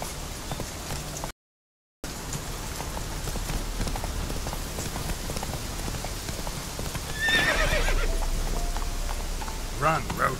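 A horse gallops in The Witcher video game, with rapid rhythmic hoofbeats running throughout alongside rain-like ambience and a neigh midway; a voice speaks briefly over it.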